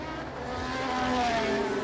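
Two 1981 Alfa Romeo V12 Formula 1 cars battle for seventh at the San Marino Grand Prix, their engines screaming with high, rising and falling notes, heard a short distance away.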